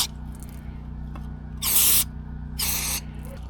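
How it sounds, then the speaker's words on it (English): Two short hissing bursts of spray cleaner go into holes during a brake service, each lasting about half a second, close up over a quiet low hum with no talking. "Now, let's spray these holes."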